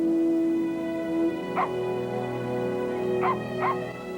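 Rags the dog gives three short, sharp yips spaced apart over a sustained tonal musical backdrop.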